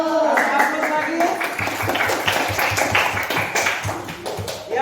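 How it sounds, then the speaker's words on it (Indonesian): A classroom of students applauds a classmate, a steady burst of clapping that runs for several seconds with a teacher's voice over it. "Kasih aplaus lagi"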